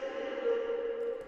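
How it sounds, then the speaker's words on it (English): A reverb-automated transition effect built in FL Studio for a rap beat: a sustained, washed-out tonal drone with smeared reverberant tail, steady and moderately loud, fading into a new element at the very end. "I added this reverb automation"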